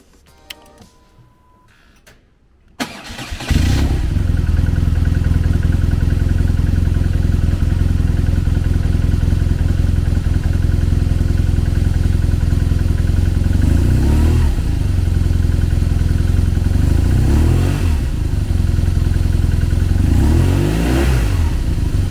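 After a few quiet seconds a 2011 BMW R1200RT motorcycle engine starts and idles loudly and steadily, with a few brief revs later on.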